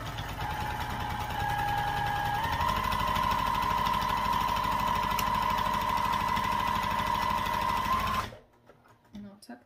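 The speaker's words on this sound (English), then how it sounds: "I'm just going to do an eighth of an inch seam allowance here just to top stitch this." A sewing machine top stitches a backpack seam, a steady fast mechanical rattle that rises slightly in pace and then stops, followed by brief quiet handling sounds.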